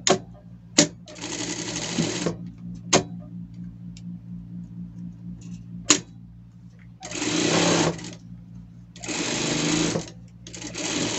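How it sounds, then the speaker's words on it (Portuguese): A sewing machine stitches a safety seam on a bandana in several bursts of steady whirring, broken by sharp clicks and pauses while the fabric is repositioned; no talking. "Aqui vamos passar uma costura de segurança."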